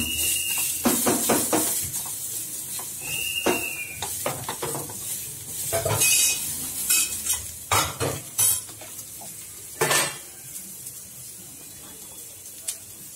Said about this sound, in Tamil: கொஞ்சம் தேங்காய் வதக்கியவுடன் பெரிய வெங்காயம் 2, அதையும் சேர்த்து வதக்க வேண்டும்.